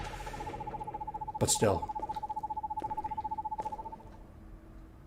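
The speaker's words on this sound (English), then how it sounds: "Is that supposed to be some sort of owl?" Owl in the horror video game Perception, a fast, rapidly pulsing hoot trill held for several seconds at moderate level, with a sharp swooping sound partway through and a person briefly speaking.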